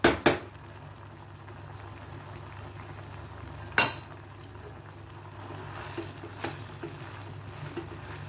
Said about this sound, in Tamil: இப்போ பாருங்கள் நல்லா கொதி வந்துருச்சு